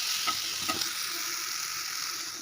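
A spoonful of cumin seeds fries in hot oil for tomato chutney, giving a steady close hiss of sizzling with faint stirring taps early on, and no talk.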